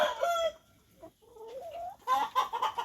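Hybrid laying hens on their third day of laying cluck and call in a coop, several overlapping birds nearby, with a rising drawn-out call in the middle and a busy burst of clucking at the end.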